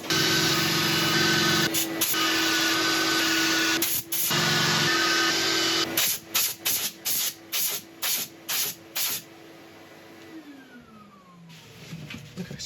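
An electric sander works over a turned rotten elm and epoxy resin piece with a loud steady whine and hiss, cutting out briefly and then switching on and off in short regular bursts before the motor winds down.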